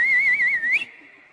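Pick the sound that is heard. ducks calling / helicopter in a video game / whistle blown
whistle blown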